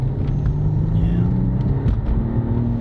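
A 2023 Mercedes S500 sedan moving at speed gives a loud, steady low engine and road rumble from inside the cabin, with a rising tone and brief talk underneath.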